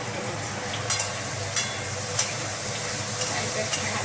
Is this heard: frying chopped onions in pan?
yes